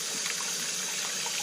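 Water runs steadily over a razor honing stone to rinse away 1000 grit slurry, a close continuous trickling gush with no voices.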